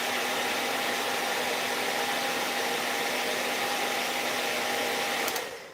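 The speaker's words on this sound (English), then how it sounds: "I'm keeping my blow dryer in one spot for long periods of time" A handheld blow dryer held in one spot while drying wavy hair, giving a loud, steady broadband whoosh with a faint motor whine, continuous throughout and cutting off abruptly near the end.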